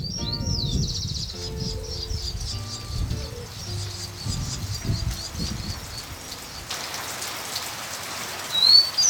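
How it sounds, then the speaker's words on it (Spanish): Gentle summer rain patters steadily on vegetation, a dense soft hiss throughout, with small birds chirping high and thin above it and brief fluttering calls near the start. "Una calma lluvia de verano, cubierto bajo la vegetación"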